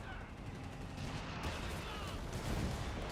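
Battle in Company of Heroes 3, with mortar rounds and small-arms gunfire from half-tracks pounding a gun position; dense, overlapping crackle and thuds roll on without a break at a moderate distance.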